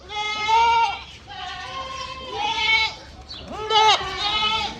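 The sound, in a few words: goat bleating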